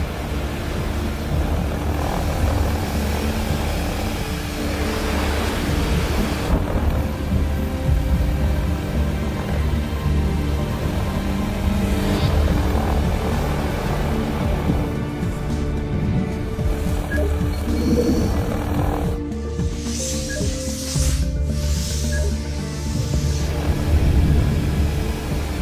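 A drone flies low over a city in a film scene, its continuous loud droning engine rumble with a propeller-like buzz filling the whole stretch, shifting and swelling in passes with no voices.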